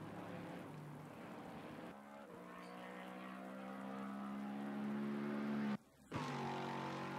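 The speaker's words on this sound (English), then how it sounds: "the Lexus sounds really nice" Lexus race car engine in Assetto Corsa Competizione at Silverstone, a steady droning tone that climbs in pitch through the gears, with a sharp brief cut at a shift before the drone resumes.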